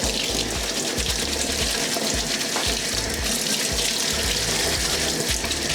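Tap water runs into a bathroom sink while sneaker laces from a pair of Jordans are rinsed, a steady close splashing rush throughout with no voices.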